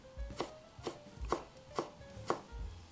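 A knife slices through fresh ginger on a cutting board, about six crisp strokes at a steady, unhurried rhythm, close and fairly quiet.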